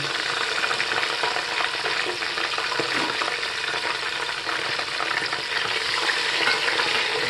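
Soaked whole garam masala (green and black cardamom, black peppercorns and cloves) frying in oil gives a dense, even, close-up sizzle that hardly varies for the whole stretch.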